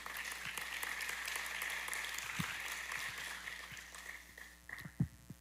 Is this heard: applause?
yes